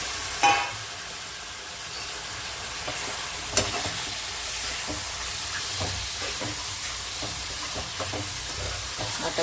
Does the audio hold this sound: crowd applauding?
no